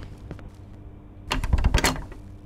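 A locked door rattling in the horror game Cry of Fear, a quick burst of metallic clattering knocks in the latter half, loud and close, after a quieter stretch of faint background.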